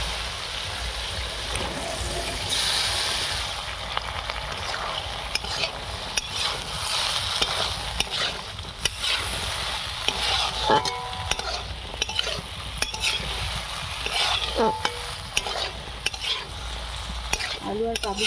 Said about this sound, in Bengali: এবারে আলু আর ছোলা সেদ্ধটা দিয়ে দিই।